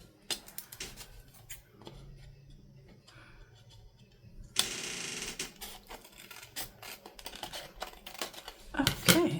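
Paper for a file folder folio craft is trimmed on a paper trimmer. Quiet clicks and handling noises lead into one longer sliding cut, followed by scattered taps, with no talk.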